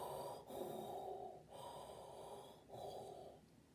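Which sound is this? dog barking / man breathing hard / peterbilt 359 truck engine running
man breathing hard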